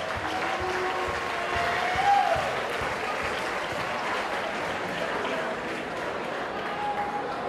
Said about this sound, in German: Bitte schön, kräftigen Applaus.